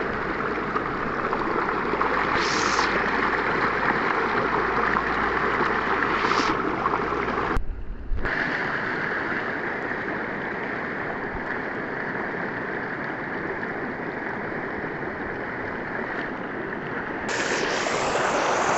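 Creek water rushes and trickles steadily, close and continuous, with a brief dropout partway through before the flowing resumes.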